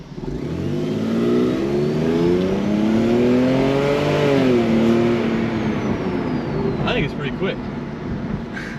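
A car accelerates hard in normal drive power mode, its engine note rising steadily through first gear, loud and close, before easing off; someone talks over the revving.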